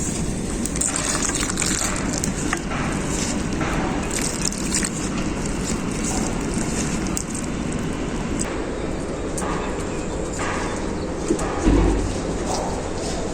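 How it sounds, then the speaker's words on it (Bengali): Batter for vegetable fritters being beaten hard by hand with water mixed in, a steady wet squelching and slapping that runs close and continuous for the whole stretch. "ব্যাটারটাকে এইভাবে খুব ভালো করে ফাটিয়ে নেব"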